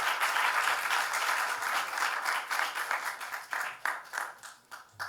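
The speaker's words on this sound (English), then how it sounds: "please give him a round of applause" An audience applauds for Leo Blanco at an arts and music symposium, a dense burst of clapping that thins into scattered claps as it fades out.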